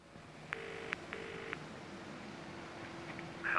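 A telephone is dialed to place a call: a few short dial tones and beeps sound in a quick, uneven sequence, quiet and close, then fade into faint room hiss.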